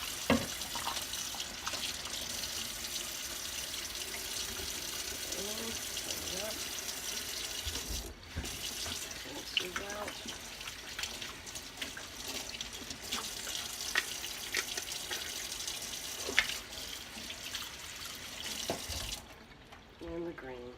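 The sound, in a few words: hose filling bottles of tie dye with water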